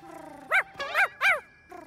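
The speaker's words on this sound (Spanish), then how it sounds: "¡Perros!" Cartoon dogs in a Spanish-language animated series let out three quick, close, high-pitched barks in succession, with a brief whimpery tone before and a short tail after.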